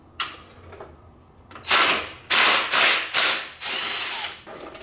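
A cordless power tool undoes the nuts on battery cable terminals with several loud, close whirring bursts. Between them come brief pauses and ratcheting clicks.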